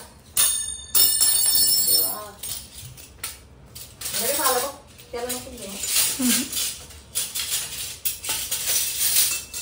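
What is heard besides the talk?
dishes and utensils being handled and arranged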